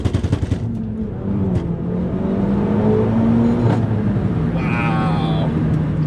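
A Renault Megane RS Trophy R with a 1.8-litre, 300 horsepower engine accelerates hard on a wet road in sport mode, heard from inside as a sustained rising engine drone after a short burst of rapid clicks.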